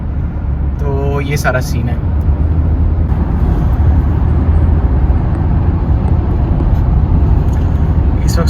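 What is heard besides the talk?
road traffic heard while driving home to Jersey City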